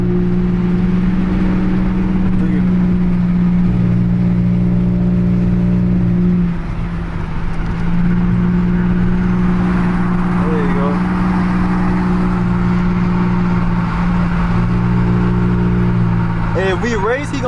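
A Chevy Impala LT with a 3.9L V6 and straight pipe exhaust, heard from inside while driving, with a loud constant engine drone that shifts pitch as it accelerates and eases. People talk over it at times.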